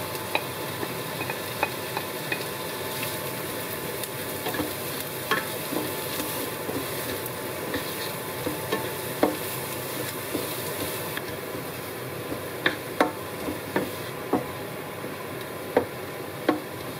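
Onions frying in a pan, a quiet steady sizzle with scattered small pops and clicks that grow a bit more frequent toward the end, no voices.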